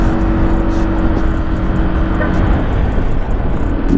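A car engine hums steadily from inside the cabin while driving, a smooth, even drone with road and tire rumble, constant in level throughout.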